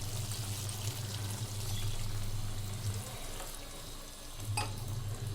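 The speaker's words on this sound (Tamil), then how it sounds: "இது கூட ஒரு 1/2 கிளாஸ் தண்ணி இது கூட ஆட் பண்ணிக்கலாம்." Water pours into almond pepper chicken gravy in a pan, a steady close splashing and sizzle with a low hum beneath, easing off near the end before briefly resuming.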